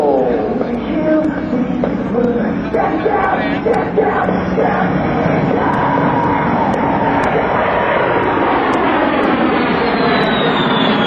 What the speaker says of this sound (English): Now repositioning the A-10 for a pass down the runway